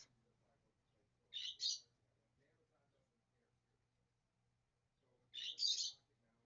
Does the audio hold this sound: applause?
no